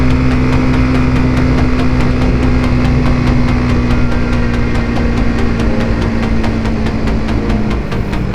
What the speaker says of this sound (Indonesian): Mungkin suara sepeda motor saya kedengeran ya.